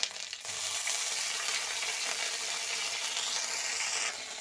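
Ginger-garlic paste dropped into hot frying oil over fried onions gives a loud, steady, broadband sizzle and spatter that bursts in at once and holds with no talk over it.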